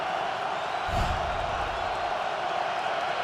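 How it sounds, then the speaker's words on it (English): A packed football stadium crowd roars steadily through a 2013 NFL wildcard playoff between the Saints and the Eagles, a dense, loud, continuous wall of noise with a brief thud near the start. "Crowd roaring"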